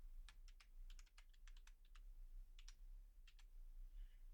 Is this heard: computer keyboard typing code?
yes